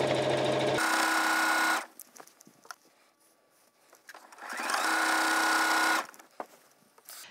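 A sewing machine stitches binding onto a quilt in two fast, steady runs with quiet handling of fabric in between, close and clear with no voices.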